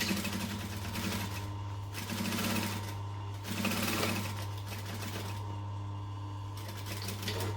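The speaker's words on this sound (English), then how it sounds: "we're just going to top stitch again along that." A sewing machine top-stitches along a folded fabric loop with a steady, close mechanical whir. It pauses briefly a few times, with no talk.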